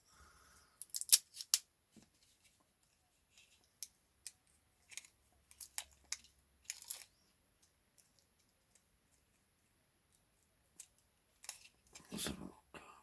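Kapton tape is pulled and pressed around a part of a Dyson HD02 hair dryer, heard as sparse close crackles, ticks and tearing clicks in a quiet room.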